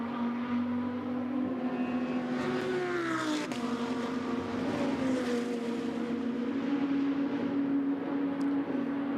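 GT2 race cars at the Monza circuit give a sustained engine drone with steady tonal whine. One car's pitch climbs and then falls as it passes nearby, and the other engine noise blends underneath at a moderate level.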